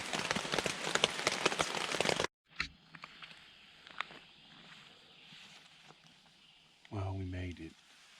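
Rain falls steadily through woodland during an overnight hiking trip in Zaleski, with a loud dense hiss at the start that drops to a softer patter, and a voice speaks briefly near the end.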